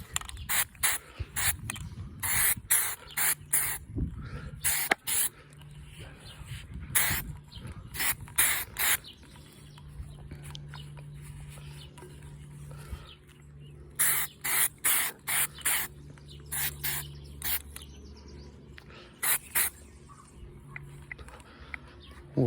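SEM self etch primer is sprayed from an aerosol can onto tumblers in light coats on a muggy day, short hissing bursts repeated in irregular clusters with brief pauses between, close and fairly loud over a faint steady hum.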